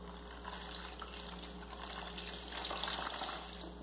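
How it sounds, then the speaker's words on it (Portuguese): Water pours steadily into a pan of oven-roasted pork leg, a continuous splashing rush close by with a low hum beneath. "nós vamos acrescentar água aqui"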